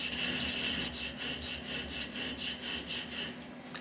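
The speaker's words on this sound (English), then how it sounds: "I'm using a small triangular or flat stone soaked in some WD-40, so it's cutting more freely" A small triangular or flat stone soaked in WD-40 honing along a metal radius on a shopmade micrometer, making a rhythmic series of close, scratchy rubbing strokes, about two per second, with no talk.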